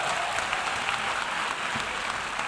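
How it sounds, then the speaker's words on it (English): Dense, continuous applause from an audience at a United Nations young leaders assembly, steady and fairly loud throughout with no pauses. "Can you clap for us?"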